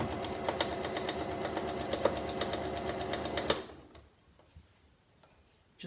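A sewing machine runs fast and close with a busy mechanical rattle and ticking for a few seconds, then stops abruptly, leaving near silence with a few faint clicks.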